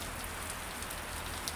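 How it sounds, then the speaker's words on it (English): Steady rain falls on surfaces outdoors, a dense, even hiss with scattered droplet ticks and no voices, on a wet day that keeps a solar telescope observation from going ahead. "it is still raining"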